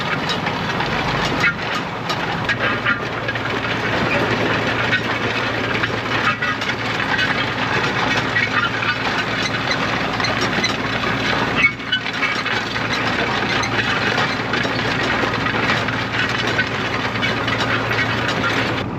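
Steady, loud tractor engine drone with rattling machinery as a plastic mulch layer is pulled across pickle rows in a field, continuous throughout with no pauses.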